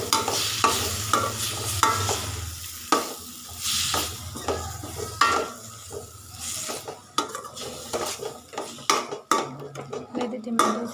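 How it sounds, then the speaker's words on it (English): Tomatoes frying for egg noodles, stirred in a pan with repeated scraping and clinking of a utensil against the metal over a soft steady sizzle, close and irregular in rhythm. "Add some tomatoes and mix it well."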